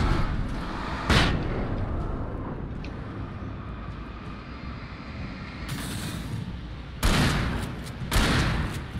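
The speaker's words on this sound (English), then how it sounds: "I threw that flashbang" A flashbang grenade goes off in the video game Alan Wake: sharp broadband bursts around one, six, seven and eight seconds cut through a dense, rumbling wash of combat noise, loud and close.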